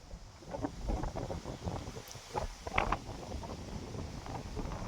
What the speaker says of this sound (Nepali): सरर हावा चलेछ।